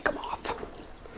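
Water drips and splashes off freshly cooked pasta shells being shaken dry, a few quick wet patters near at hand, quiet and brief.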